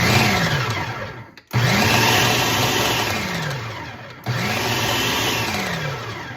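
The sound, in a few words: food processor pulsing bread ends into crumbs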